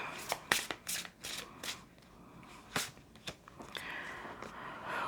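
Tarot cards are shuffled by hand for a reading, irregular papery slaps and riffles close by, fairly quiet, with soft background noise and no clear speech.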